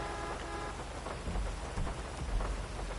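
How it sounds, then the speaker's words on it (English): Toxic rain in a video game falls as a steady, dense hiss of raindrops with low rumbling thunder underneath, continuous throughout and with no talking. "Is this, like, actually toxic rain?"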